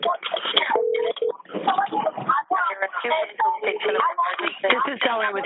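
Telephone keypad tones from a 911 dispatch line as the call is transferred to the fire department. Brief dialing beeps sit among steady, narrow phone-line voices.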